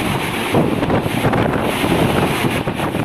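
Strong typhoon wind during Typhoon Rolly, a loud continuous roaring gust battering the microphone with surging, rushing waves of noise and no voices.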